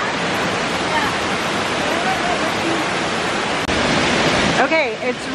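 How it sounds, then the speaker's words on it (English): Heavy rain pours down near a waterfall in Guam, a dense, loud and steady wash of water noise that fills the whole clip, with a brief voice-like warble near the end. "It started raining really hard."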